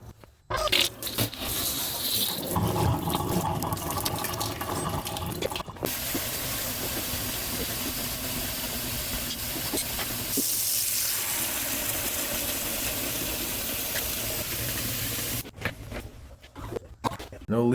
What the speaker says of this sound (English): Now let's test the water.